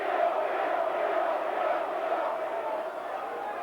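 A Derby County football crowd at a 1990/91 First Division match against Nottingham Forest roars and jeers as a steady, dense wall of voices filling the stadium, with no breaks.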